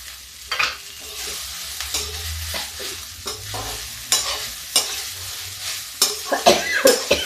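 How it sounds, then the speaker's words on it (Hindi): Okra frying with onions in a pan in a rustic village-style dish cooked without oil, giving a soft sizzle under repeated scraping stirs of a spoon against the pan. "इसी में डाल देते हैं भिंडियाँ।"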